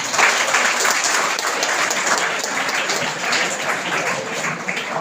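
Dense, steady applause fills the hall at a Class 12 farewell ceremony at Saraswati Shishu Mandir school in Rajim, welcoming the block health officer; many hands clap close and loud without a break for the full five seconds.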